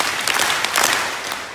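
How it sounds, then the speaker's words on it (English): A group of people clapping their hands hard together, a dense burst of loud claps spread through the room rather than three distinct beats. "I want everybody to clap their hands very hard 3 times"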